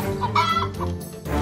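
Cartoon chicken clucking in a steady, close run of fowl calls that fill the whole moment with no one speaking.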